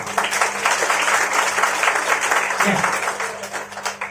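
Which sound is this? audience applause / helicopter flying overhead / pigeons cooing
audience applause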